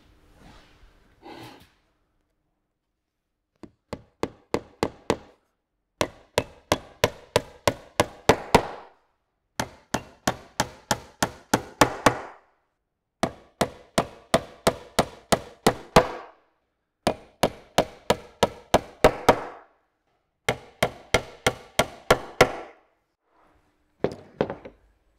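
Hammering nails into plywood roof panels of a gabled beehive roof: loud, close, rhythmic bursts of sharp blows, several strikes per group, separated by short pauses.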